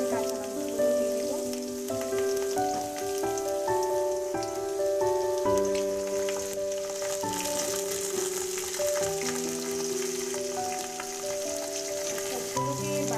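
Chopped onions and green chillies frying in oil until browned, a continuous crackling sizzle heard under background music.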